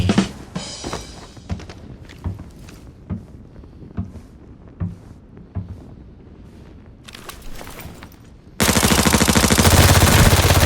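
Arena Breakout video-game gunfire crackles in scattered short bursts, then a sudden loud, dense roar of continuous firing takes over at the end.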